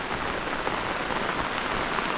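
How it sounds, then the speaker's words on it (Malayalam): Heavy rain pours down in a dense, steady hiss in a forest, drumming evenly on surfaces with no pauses. "ഓ ഭയങ്കര മഴ കേട്ടോ"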